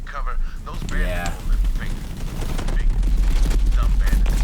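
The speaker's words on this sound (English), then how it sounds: "Explosions!" Explosions and gunfire in the video game Borderlands roar under a fast rumbling barrage, loud and dense, with people talking over the action.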